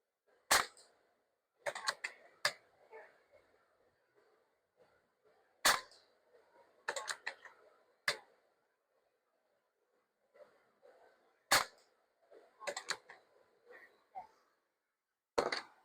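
A Beeman Raider air rifle fires at a target, each shot a sharp isolated crack, several spaced across quiet stretches with faint handling clicks and rustles between them.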